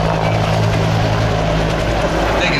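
A loud AH-1 Cobra helicopter thrums steadily overhead while hovering, its rotor and engine noise filling the whole clip without letting up.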